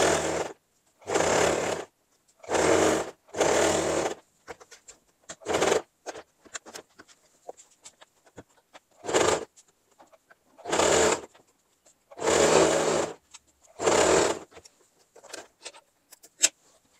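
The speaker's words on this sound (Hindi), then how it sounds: "और अब इस पर यहाँ से यहाँ तक ऐसे और ऐसे हम सिलाई चला देंगे" A sewing machine stitches a zip into a girl's lehenga in short, repeated bursts of steady rapid whirring. Each burst lasts about a second and is separated by quiet pauses, clicks and fabric handling.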